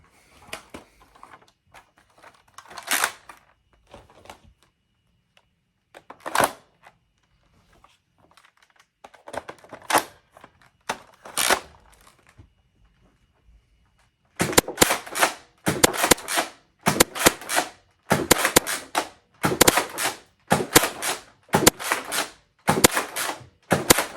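A Nerf Double Dealer blaster fires foam darts in sharp snapping shots, scattered singly at first, then a fast, steady run of repeated pops close to the listener with no talking.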